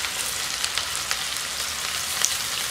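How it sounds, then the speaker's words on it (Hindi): Coarsely chopped onions frying in hot oil with cumin for a fish masala give a steady, close, hissing sizzle with scattered small crackles and pops, and no talk. "अब मैं इसमें प्याज डाल दूँगी।"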